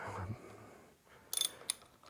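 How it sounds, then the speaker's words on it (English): Wrench breaking loose a 9/16 pinch bolt, with a soft scrape and then a quick burst of sharp metallic ratchet clicks and a final click, close and fairly quiet. "on this side we're going to crack loose this pinch bolt"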